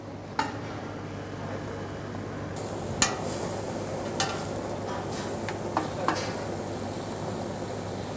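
Leeks browning in a hot pan, a soft steady sizzle running throughout with a few sharp scrapes and clinks from stirring, close and moderately quiet, no talk.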